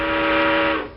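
A single loud, steady steam whistle blast at a whaling station, with a strong tonal pitch, held for about a second before cutting off.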